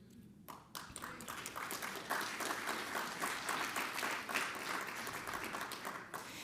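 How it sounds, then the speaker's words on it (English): An audience at a talk on Black food access and justice claps after a speaker's point, a quiet, distant patter of many hands that swells a little and keeps going. "I paused for the applause"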